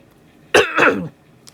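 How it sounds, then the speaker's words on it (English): A single close throat-clearing cough, a rough two-part rasp lasting about half a second. "Sorry for the coughing this week"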